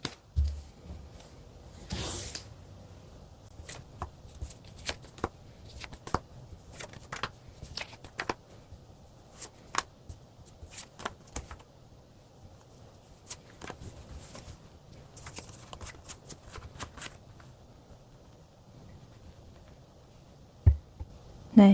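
Tarot cards shuffled and drawn for a reading, giving a run of soft papery riffles and flicks with scattered sharper snaps, close and fairly quiet, with no voices.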